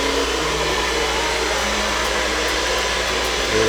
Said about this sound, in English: handy dandy heater slash hair dryer, and we're just going to heat this up a little bit